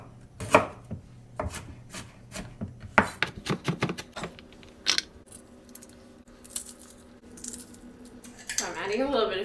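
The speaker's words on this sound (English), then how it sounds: "Chopping up the ginger." A knife chops ginger on a cutting board while kimchi sauce is made, with sharp, close, irregular strikes in quick bursts. A voice briefly joins at the end.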